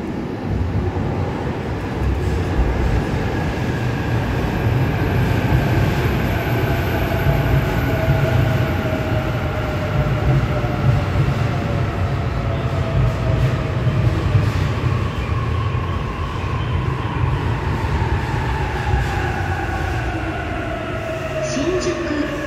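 E233 series commuter train on the Shonan-Shinjuku and Yokosuka line rolling into a station platform, a loud continuous rumble of wheels and motors with rising and falling whine as it slows.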